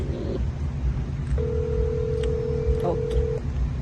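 A single steady telephone tone held for about two seconds in a Haitian family drama scene, with a brief touch-tone blip near its end, sounding over constant background room noise and murmur.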